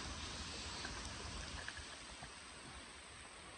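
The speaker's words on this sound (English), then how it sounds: "the rain's just literally started to team down" Steady, heavy rain pours down in a small railway cutting on the Worsbrough incline, a dense continuous hiss heard close by with no voices.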